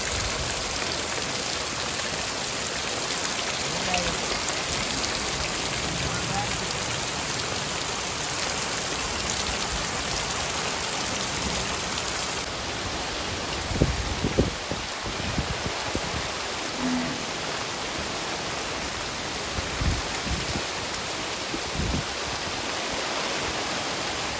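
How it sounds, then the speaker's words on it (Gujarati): Torrential rain keeps falling steadily in a Botad village, a broad unbroken hiss of water on surfaces, with a few brief nearby knocks and splashes in the second half and no talking. "ભૂકા કાઢે જોરદાર મુસળધાર વરસાદ."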